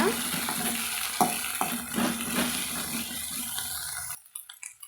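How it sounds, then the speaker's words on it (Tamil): Mint leaves with their stems being stirred and sautéed in a pan for a mint chutney, with a soft steady sizzle and occasional scraping strokes before it drops away abruptly near the end. "தண்டோட அதையும் சேர்த்து நம்ம வதக்கலாங்க"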